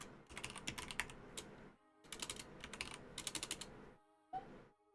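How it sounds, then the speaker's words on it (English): Rapid keystrokes clatter on a computer keyboard in two quick bursts separated by a brief pause, followed by a single final tap, close and quiet with no voices. "while he's typing"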